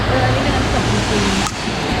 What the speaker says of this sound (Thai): ตรงนี้เป็นน้ำตกเย็นๆนะเออนี่เป็นน้ำตก